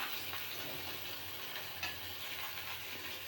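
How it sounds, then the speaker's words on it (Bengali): Fish fries in a pan with a steady, close sizzle and light crackle, continuous and unbroken. "মাছ ভাজা বসিয়ে দিলাম"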